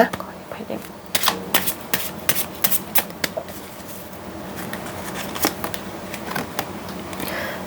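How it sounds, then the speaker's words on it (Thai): Tarot cards shuffled and flipped during a reading, a run of quick crisp slaps and riffling snaps in bursts, close and fairly loud, with a softer steady rustle between them. "ขออนุญาตเปิดไพ่นะคะ"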